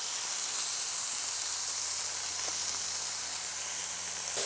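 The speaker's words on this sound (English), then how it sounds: "do you hear that sizzle? That is fantastic." Steady, close sizzling hiss of food cooking on a Zojirushi indoor electric grill, a continuous frying crackle with no talk over it.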